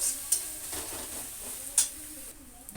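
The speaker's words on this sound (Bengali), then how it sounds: "আমুদি শুটকি, ওটাই পেস্ট করে নিয়েছি আমি একদম। ওটাই এখন কষিয়ে নেব সুন্দর করে" A paste of ground dried amudi fish with garlic and chili fries in a pan while being stirred, a soft steady sizzle broken by a few sharp scraping clicks of the spatula.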